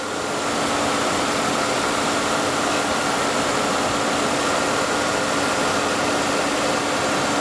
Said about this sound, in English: you can see the actual engine running